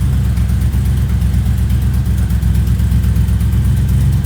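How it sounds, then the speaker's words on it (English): A 1976 Plymouth Gran Fury wagon engine idles steadily close by, a low even rumble carrying a small rhythmic tick, with no talk over it. "I'm not really hearing that exhaust leak anymore. It is a little tick that you can hear in there."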